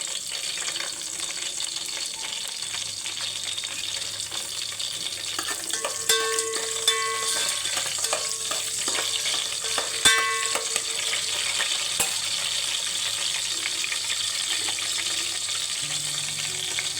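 Green chillies sizzle and crackle in hot oil in a pan for South Indian coconut rice, a steady close frying hiss with occasional stirring clinks and scrapes.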